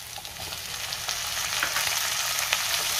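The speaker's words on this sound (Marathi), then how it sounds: "टोमॅटो सुद्धा थोडा परतून घेणार आहे मी" Tomatoes sautéing in a pan with onion and ginger garlic paste, a close, steady sizzle that grows slightly louder, punctuated by brief scraping strokes of stirring, with no one talking.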